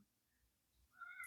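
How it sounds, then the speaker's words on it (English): A house cat meows near the end, a short rising cry after a quiet stretch of room noise, fairly close and moderately loud. "I'm so sorry about my cat. She's being really sassy."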